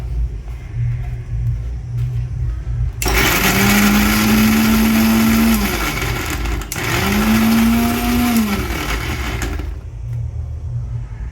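A mixer grinder whirs loudly in two bursts of a few seconds each, grinding green chilli masala for chicken sukka, with a steady motor hum that rises and falls between the runs, up close with no talking.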